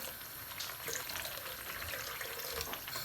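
Water, about one and a half cups, pours steadily into sizzling fried masala in a pan for egg curry gravy, a continuous hissing splash with no talking.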